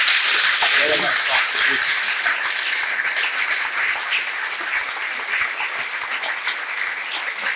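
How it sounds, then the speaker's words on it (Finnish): Sustained, dense applause fills the hall from a large audience at a pensioners' association's 50th jubilee celebration in Finlandia Hall, Helsinki, loud at first and easing slightly, with a voice briefly speaking over it. "Mölyäijät, annetaan vielä aplodit."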